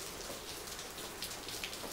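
Rain falls steadily during a Tennessee flood, a faint, even hiss of drops with occasional louder spatters, continuous throughout and with no voices.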